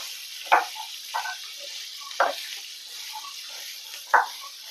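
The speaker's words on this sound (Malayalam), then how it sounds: "കപ്പയ്ക്കായി ഇട്ട് നല്ലപോലെ ഇളക്കി കൊടുക്കാം കപ്പയ്ക്ക് ഒന്ന് വാടി വരണം" Papaya pieces for a Kerala-style white pickle being stirred in a pan, soft background hiss broken by four distinct scraping stir strokes, close and fairly loud, with no voices.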